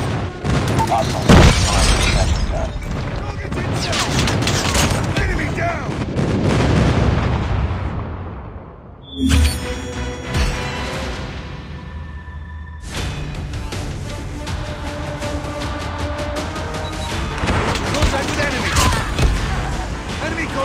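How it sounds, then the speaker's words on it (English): Airstrike explosions and bursts of gunfire in a Call of Duty multiplayer match, with heavy booms, rolling rumble and rapid shots, loud and continuous with a brief lull midway, under game announcer voice lines. "Friendly airstrike incoming."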